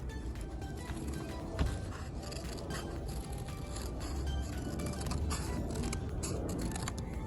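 Scissors cut out a paper leaf shape, quiet crisp snips and slicing scrapes repeating closely in a hushed room, with no talk.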